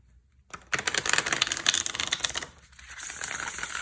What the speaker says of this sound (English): I have to shuffle it in pieces.